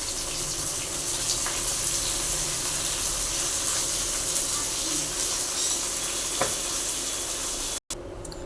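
Shredded cabbage added to fried tomato in a pan for a fish-head cabbage curry gives a steady loud hiss and sizzle throughout, with a brief dropout near the end.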